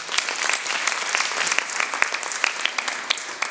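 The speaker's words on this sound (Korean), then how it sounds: "박철 교수님께 한번 다시 박수 부탁드리겠습니다" Steady applause from an indoor audience at an art museum exhibition opening, dense clapping sustained throughout at moderate volume with no voices over it.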